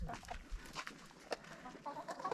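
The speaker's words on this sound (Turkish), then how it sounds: "Tavuklar." Several chickens cluck softly nearby in short, uneven bursts, with a few louder squawks scattered across the few seconds.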